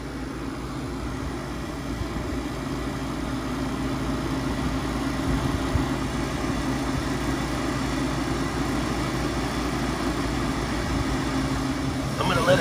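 Condenser fan motor on a warm walk-in beer cooler running steadily, a continuous close mechanical hum and whir with an even low rumble throughout, no breaks.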